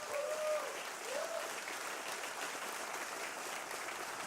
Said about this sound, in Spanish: Le damos un aplauso fuerte a ellos.